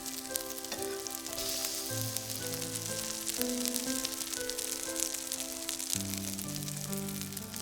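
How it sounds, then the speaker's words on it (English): Sausage breakfast dish frying in a pan after being turned to its other side, with dense crackling sizzle and spattering pops over a background of tonal music. "Then we turn it over and fry for a minute or 2 on the other side."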